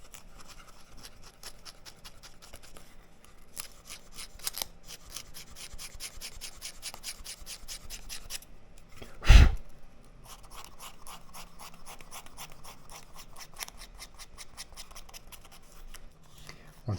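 A leather edge is sanded by hand with 180-grit paper, giving quiet, rapid back-and-forth rasping strokes in steady bursts, broken by a brief pause and a single louder thump near the middle, with no talking.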